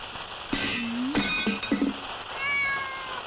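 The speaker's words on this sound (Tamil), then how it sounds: "இந்த பூனை வேற பெருந்தொல்ல, எதையாவது போட்டு உருட்டிக்கிட்டே இருக்கும்." A cat meows several times up close, with drawn-out, rising and falling cries in quick succession and no talking.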